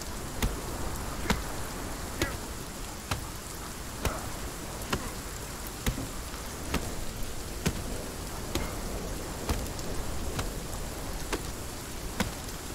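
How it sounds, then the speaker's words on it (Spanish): Rain falls in the survival video game Sons of the Forest, a continuous dense patter with sharp ticks repeating at a regular beat over the steady downpour. "cómo suena la lluvia"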